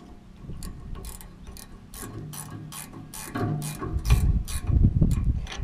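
A 1/2 inch ratchet tightens bolts on an Oliver 66 tractor, clicking in quick repeated bursts of sharp pawl ticks, close up, with the strokes growing heavier and louder toward the end.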